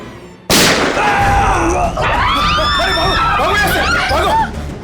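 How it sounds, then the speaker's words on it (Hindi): A single sudden, loud gunshot cracks out in a TV crime drama, followed by shrill screaming voices ringing over the echoing aftermath. "अरे अंदर गोली चली अंदर।"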